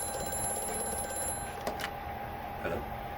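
A telephone rings in a Halloween video game, a steady electronic ring tone running continuously at moderate volume, with a couple of brief clicks near the end.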